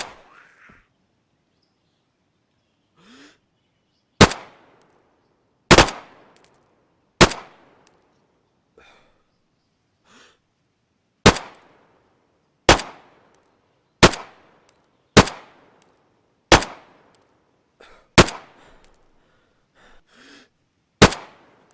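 Shotgun and submachine gun shots from the DayZ video game ring out as a dozen loud, sharp single blasts spaced about a second apart, each decaying quickly into near silence, with faint breathing sounds between them.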